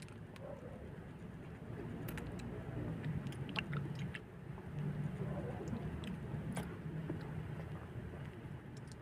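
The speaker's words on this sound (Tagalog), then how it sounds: "Crunchy pa rin yung chocolate." Crunchy chocolate chewed close to the mic, with a steady stream of soft crunching bites over a low background rumble and faint wind noise.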